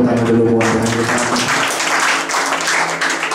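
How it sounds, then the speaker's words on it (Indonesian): A church congregation claps for God during a sermon, dense sustained applause spreading through the room, with organ or keyboard chords sounding underneath at the start. "Boleh tepuk tangan dulu buat Tuhan kita."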